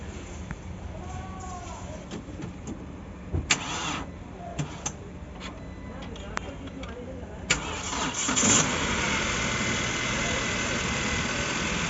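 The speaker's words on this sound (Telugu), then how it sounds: "ఓకే ఇంజన్ స్టార్ట్ చేసాం, అంతా బాగానే ఉంది." A Mahindra Thar with a turbo engine and a freshly changed air filter starts with a short crank, then settles into a steady, close idle after a series of clicks and clunks.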